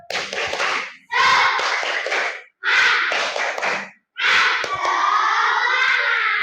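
A third-grade primary school class doing a rhythmic spirit clap, loud bursts of children clapping and shouting together in four rapid chanted phrases with short pauses between, close by.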